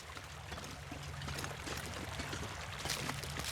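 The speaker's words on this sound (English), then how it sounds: "I hear the water" Flowing water in the survival game The Long Dark, a steady rushing stream with a broad hiss that holds evenly throughout and swells slightly toward the end, with no voices.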